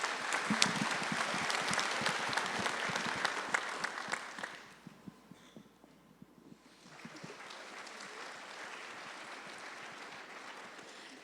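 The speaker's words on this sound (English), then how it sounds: "a round of applause" Loud applause fills a school transition-night gathering at a high school, dies away into near quiet around the middle, then a softer patter of clapping returns and continues.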